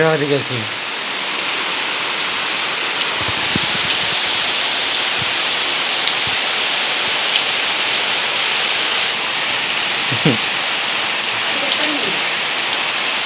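Heavy rain pours steadily and loudly onto surfaces outdoors, a dense unbroken hiss with a few brief thumps and knocks near the start and again around the middle.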